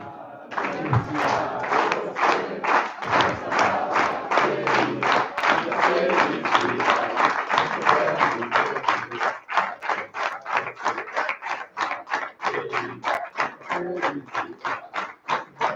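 Long applause from an auditorium audience honoring a professor, a sustained stretch of steady clapping that later settles into rhythmic unison claps, loud and continuous.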